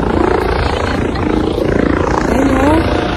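A private helicopter flies overhead during a sightseeing walk in Malaysia, its loud, continuous rotor and engine drone filling the scene while voices murmur underneath.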